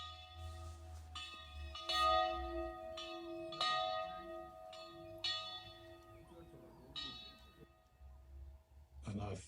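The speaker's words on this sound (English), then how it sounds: "the man came to ring the bell" A church bell at Tiyo Soga's mission church in Mgwali, rung in the morning to call the congregation to worship, strikes repeatedly at a steady, unhurried pace and sounds faint and somewhat distant, with some background voices.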